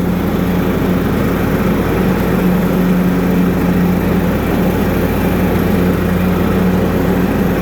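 A John Deere L110 riding lawnmower with a 17.5 HP Kohler Command engine runs at a constant drone, close and loud, with a steady low hum and no speech.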